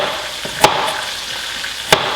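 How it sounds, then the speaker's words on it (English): Mongolian beef sauce sizzles steadily in a pan while being stirred, with two brief scraping clicks from the utensil over the constant frying hiss, close and moderately loud. "I'm gonna give our sauce a stir. That is cooking up beautifully."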